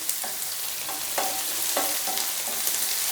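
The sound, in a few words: food sautéing in a pan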